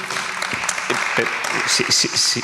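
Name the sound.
audience applause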